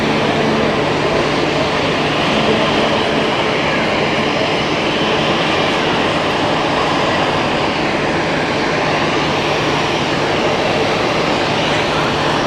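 A jet airliner taking off at Zurich Airport, heard from an observation deck as a loud, continuous broadband roar with a steady low hum running underneath, unbroken for the whole stretch.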